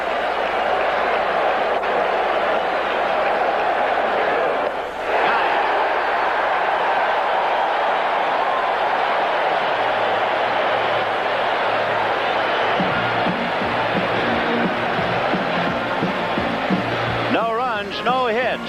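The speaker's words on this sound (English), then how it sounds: "And this crowd now trying to cheer Hudson out of this spot" A baseball crowd at the Vet in Philadelphia during the 1983 NLCS Game 3, Dodgers at Phillies, keeps up a steady, dense roar of cheering throughout, with a brief dip midway and a wavering tone rising near the end.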